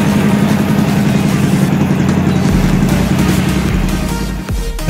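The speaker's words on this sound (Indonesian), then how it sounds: "Suara mesin sudah mulai" Motorcycle engine idling after an injector service, a steady close mechanical hum with a low rumble that dips and falters toward the end as if about to stall.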